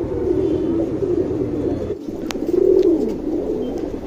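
A male Dhuma Regdar pigeon coos close by in low, rolling phrases, one run early and another after a short break, over a steady background hum.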